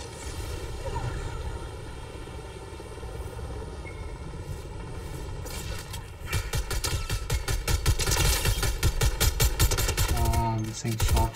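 Gunfire in a Fortnite Zero Build match: rapid automatic bursts erupt in the second half, loud and dense over a steady droning game ambience, with faint background voices.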